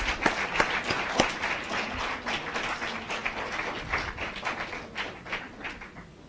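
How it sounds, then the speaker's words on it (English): An audience claps for competition participants at a live-streamed event, a burst of sharp individual claps at first settling into steady, moderately close applause that carries on throughout. "Let's put our hands together for all the participants because they did a great job."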